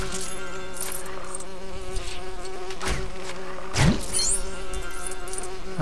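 Bees buzz around a beehive in the video game Lego Lord of the Rings, a continuous droning hum with overlapping tones and a few brief louder swells, no talk.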